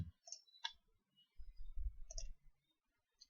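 Computer mouse clicks while working in the Google Chrome web browser, a few short, sharp clicks spaced apart, fairly close and quiet, with soft low rumbles between them and no voices.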